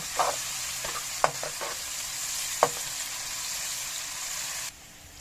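Snake gourd fries in a pan with salt while being stirred, giving a steady sizzle broken by a few sharp scraping clicks of the spatula, close and fairly loud, with no talk.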